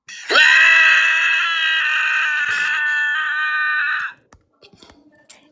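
A man screams loudly in a single sustained cry of about four seconds, recorded in a roleplay trial setting, followed by faint clicks and small noises.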